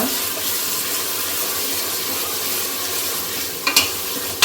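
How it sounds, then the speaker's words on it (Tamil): Chopped tomatoes stirred into biryani masala frying in a pan, a steady broad sizzle with soft stirring scrapes and a couple of sharper clinks near the end, no voices. "இப்போ இதை உள்ள சேர்த்துடலாம். சேர்த்துட்டு நல்லா மிக்ஸ் பண்ணி விட்டுக்கோங்க."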